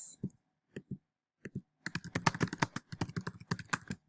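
Keys clack on a computer keyboard as a reply is typed: a few separate taps at first, then a fast, steady run of close, crisp clicks with no talking.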